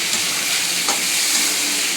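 Potatoes and onions frying together in a pan, a loud, dense, even sizzle heard up close with a faint stir partway through and no voices.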